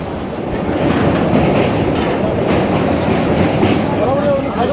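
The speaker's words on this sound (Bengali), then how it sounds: "প্রায় আধ ঘন্টা পরে কাঁথি থেকে ছাড়লো ট্রেন" A Santragachi–Mecheda–Digha local train runs along the rails after leaving Contai, giving a loud, continuous rumble with rhythmic clickety-clack from the wheels and faint squeals, heard from inside the carriage.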